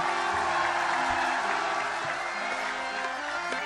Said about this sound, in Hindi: एक बार जोरदार तालियों से माननीय मुख्यमंत्री जी का स्वागत करें।